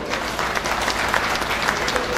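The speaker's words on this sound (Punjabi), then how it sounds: "ਇੱਕ ਵਾਰੀ PDFA ਲਈ ਜ਼ੋਰਦਾਰ ਤਾੜੀਆਂ ਹੋ ਜਾਣਗੀਆਂ" An audience at the PDFA Mela 2017 applauds loudly and steadily for the PDFA team, a dense, even wash of clapping from start to finish.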